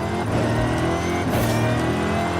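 An American car's engine revs hard and steadily in a racing video game, a loud continuous roar with rising and falling pitch that runs unbroken from start to end.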